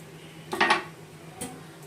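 A metal spoon stirring dissolved powdered milk into milk in a pot while making homemade yogurt, giving two brief clinks and scrapes against the pot, close and isolated.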